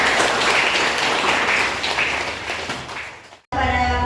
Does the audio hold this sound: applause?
yes